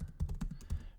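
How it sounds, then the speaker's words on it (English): Fingers tap quickly on a computer keyboard, a short burst of soft, close clicks in an uneven rhythm with no talking. "And I can type out workout"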